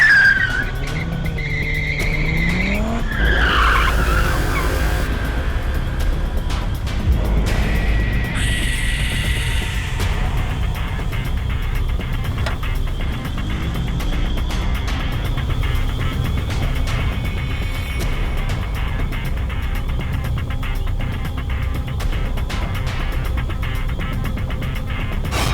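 A car tears away at speed in a frantic rush toward a hospital, with a sharp tire squeal and skid at the start before a steady, loud engine roar carries on throughout.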